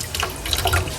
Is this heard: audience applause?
no